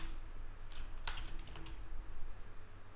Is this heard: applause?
no